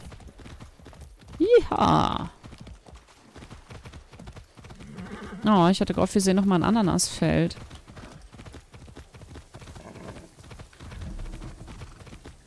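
Horse hooves clip-clop at a steady gallop while riding in the video game Far Cry 6, loud bursts of rhythmic hoofbeats alongside someone talking over the game sounds.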